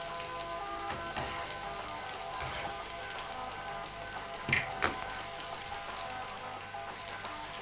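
Garlic and onions sizzle steadily in olive oil in a pan for spaghetti aglio e olio, a continuous close crackling hiss with a couple of brief louder pops and no voices.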